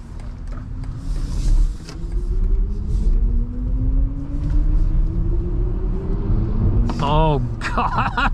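BMW iX xDrive50 electric SUV with 516 horsepower accelerating, a steady rising whine over road rumble heard from inside the cabin, with a brief mechanical creak near the end and people talking throughout.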